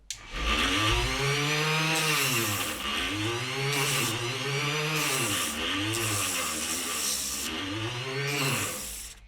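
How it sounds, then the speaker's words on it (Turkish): A Vonroc rotary engraving tool with a sanding attachment whines steadily at its first speed setting, rising and falling in pitch as it grinds against a surface, running continuously and loud up close. "Zımparayı takıp bir çalıştıralım bakalım."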